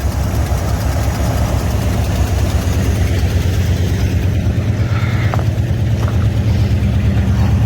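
A 1973 Buick Riviera boattail's old engine idles steadily, a low rumbling drone that stays even and continuous throughout with no voices.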